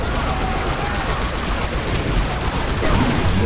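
Gunfire in the video game Command & Conquer 3: Tiberium Wars, a dense continuous rattle of shots and booms filling the scene, loud and sustained amid battle noise.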